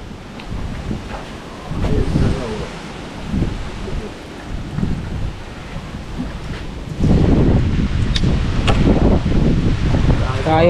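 Strong gusting wind buffets the microphone in heavy low rumbles, growing louder toward the end, with people talking intermittently underneath.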